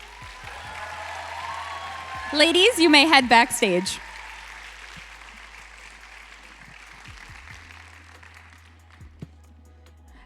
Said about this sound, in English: Let's give these candidates one last giant round of applause.